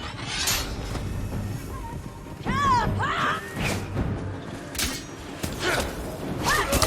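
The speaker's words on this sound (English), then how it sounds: "Whoa, we got fireworks." Fireworks during a nighttime castle attack in the video game Ghost of Tsushima: whistling rockets rising and sharp bangs and crackling bursts scattered over several seconds, fairly loud against a busy background of battle noise.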